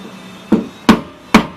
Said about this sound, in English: you got to tap that stupid ring